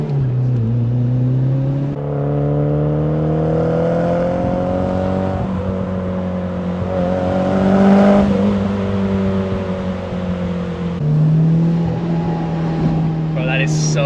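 Toyota Celica GT-Four rally car, right-hand drive, its turbocharged engine pulling hard under acceleration, rising and holding a steady drone heard from inside the cabin while people talk over it.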